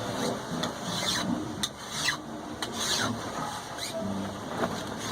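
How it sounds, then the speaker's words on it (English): A cable Damascus steel die is ground down by hand to a shiny finish. Quiet, rasping strokes repeat at an uneven rhythm against a low background hiss. "And grind it down until I'm all shiny except for the number 5 there."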